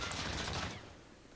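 Burst of gunfire in the Warzone video game, likely an M4A1-style rifle, a dense rattle for under a second that quickly fades into quiet.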